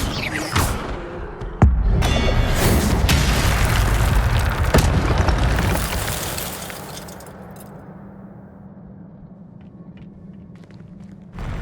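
In Hogwarts Legacy, an Incendio fire spell bursts with a loud booming whoosh, then rolls into a dense crackling roar that slowly fades into a lower rumble.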